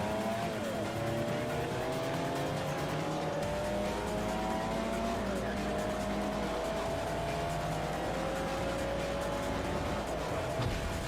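A race car in Forza Motorsport 4 launches off the line, its engine droning at a steady pitch that rises through the gears while the tires squeal and scrub, loud and sustained with no talking.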